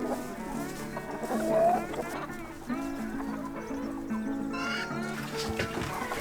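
Chickens cluck and murmur at feeding time on a small farm with horses and mares, a steady close chorus of fowl calls with some bleat-like cries mixed in.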